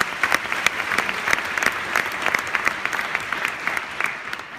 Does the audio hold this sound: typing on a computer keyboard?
no